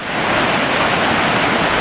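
A continuous, loud rush of falling water from Kapuzbaşı Waterfall in Yahyalı, Kayseri, Turkey, a steady broadband roar with no breaks.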